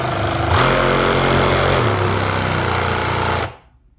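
A reciprocating saw with a dull, cheap test blade cuts through a wooden plank, giving a loud, continuous buzzing rasp that runs for several seconds before cutting off abruptly.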